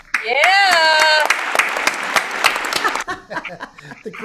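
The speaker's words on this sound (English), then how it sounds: "The crowd roars." An audience at a live folk music performance breaks into applause after a song: a rising whoop over scattered clapping and cheers, then the applause tapers off while a few voices talk.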